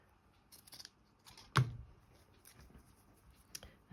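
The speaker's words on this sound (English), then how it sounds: "So need to cut another piece here." Scissors cut through a piece of fabric in a quiet room, giving a few soft, separate snips with one sharper, louder closing snap in the middle.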